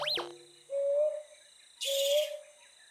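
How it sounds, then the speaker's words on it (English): A brown hawk owl calls in a forest at night, giving two clear rising hoots about a second apart, loud and close, with a faint high insect-like hiss underneath and no talking. "We can pick up the mama owl's call with this."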